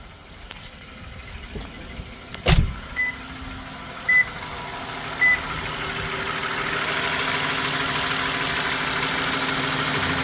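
A 2013 Toyota Sienna engine idles while warming up during a coolant replacement, giving a low, steady hum. A sharp thud comes early, followed by three short, evenly spaced beeps, then an unbroken idle.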